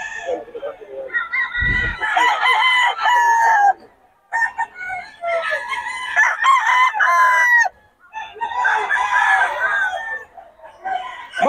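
Gamecock roosters crow loudly and close by in repeated long calls, one after another with brief gaps, mixed with some clucking and a short low thump.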